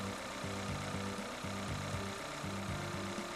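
A car engine with Rochester Multec fuel injection idles quietly with a low, pulsing rhythm, faint and steady without other sounds.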